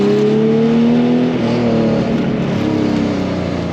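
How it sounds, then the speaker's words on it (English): A Porsche 911 964 engine drones loudly and continuously, its pitch sliding down as it decelerates on overrun, with a throaty, burbling tone and no voices. "I like that overrun sound."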